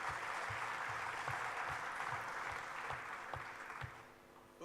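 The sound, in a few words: audience applause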